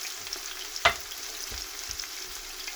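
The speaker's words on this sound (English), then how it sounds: "we will bring the onion and we will fry it for about 30 to 45 seconds" Chopped onion frying in a pan as the base for cooking beans, a soft steady sizzle with one sharp crackle and a few light stirring knocks, fairly close and without talk.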